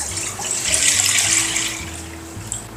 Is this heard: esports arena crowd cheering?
no